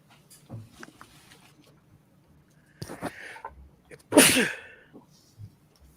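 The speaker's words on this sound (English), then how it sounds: "You want to sneeze in everybody's ear." A single loud, close sneeze bursts out sharply, with quieter indoor voices and small shuffles around it.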